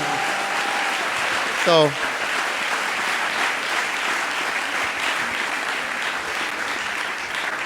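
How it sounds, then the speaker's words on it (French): A church congregation claps loudly and steadily in a long, even ovation, with a brief spoken word cutting in near the start and a short electronic squeal over the sound. "Give the Lord a mighty clap offering."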